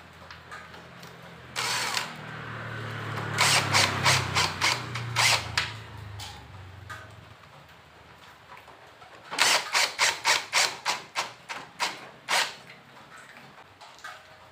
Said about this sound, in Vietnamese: rồi chúng ta sẽ là vặn vít lại